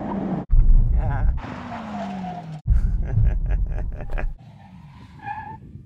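A Bowler Bulldog and a 5.0-liter V8 Ford Mustang make a full emergency stop, with tyres skidding and squealing in short bursts under engine noise, and voices heard around the stops.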